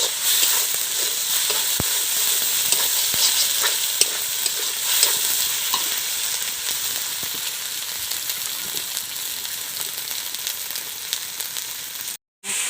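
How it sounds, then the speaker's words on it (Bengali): Ginger and garlic paste fries in oil in a pan for a village-style chicken dish, a loud unbroken close sizzle with frequent stirring scrapes, then a momentary cutoff near the end. "আদা আর রসুন বাটা। এটাকে ভালোভাবে ভেজে নেব যাতে মশলা থেকে কাঁচা গন্ধটা চলে যায়।"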